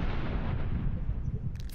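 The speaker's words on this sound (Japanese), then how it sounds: "爆発。" A loud, close explosion in an online shooter video game booms and rumbles, filling the short moment with dense low-end blast noise and no speech.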